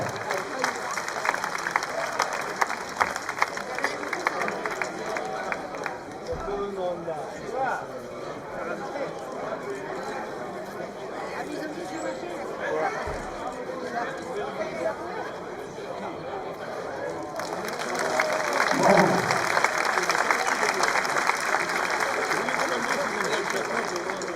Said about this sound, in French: On applaudit Zakaria Katif et se tourne à l'extérieur